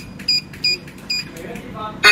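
A few short electronic beeps in a rhythmic series from a security alarm control panel being armed, then a brighter higher chirp at the end, close and clear in a quiet room.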